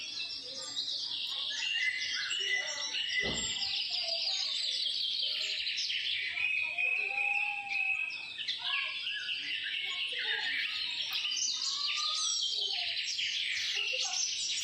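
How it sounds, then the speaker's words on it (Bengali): Many birds chirp and sing at once in a dense, continuous chorus of high tweets and trills that stays lively and fairly loud from start to finish. "কি সুন্দর, আমার কাছে অসাধারণ লাগছে পাখিগুলো"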